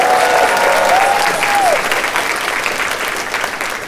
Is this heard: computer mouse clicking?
no